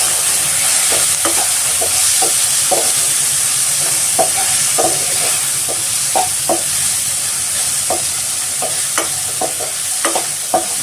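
Green chillies, salt and turmeric being stirred into vegetables in a pan for bread upma, a loud constant sizzle and hiss with regular spoon scrapes against the pan throughout.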